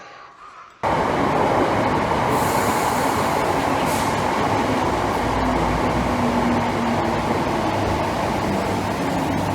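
A loud, steady rush of a Class 318 electric train passing close by, starting abruptly and continuing as a dense roar with no voices.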